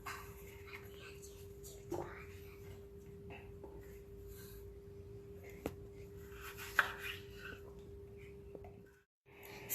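Potatoes being cut into chips with a knife: a few faint, sparse knife strikes on a board against a quiet room background.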